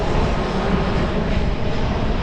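Steady, loud engine rumble from a United Airlines airliner flying over a secluded Hawaiian beach, filling the moment without any talking.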